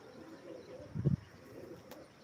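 A single soft pigeon coo sounds faintly at an outdoor loft, a brief low murmur over quiet background hiss.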